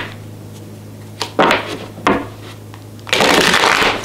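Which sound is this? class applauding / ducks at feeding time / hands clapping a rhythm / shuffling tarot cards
shuffling tarot cards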